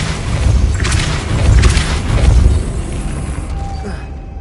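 Depulso force spell cast in Hogwarts Legacy, a deep rumbling magical blast that swells in two heavy surges over about three seconds, loud and close, then fades away.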